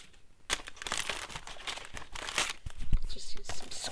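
Paper crinkles and tears up close while a page for an altered book craft project is handled, a run of crisp bursty rustles and rips that grow busier toward the end.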